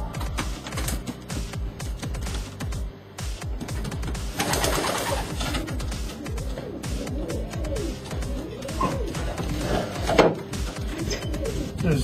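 Racing pigeons in a loft, young and old birds, cooing in a dense overlapping chorus of soft low calls, with fluttering and shuffling throughout.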